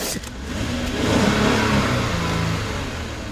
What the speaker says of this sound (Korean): 자, RPM 올려 볼게요.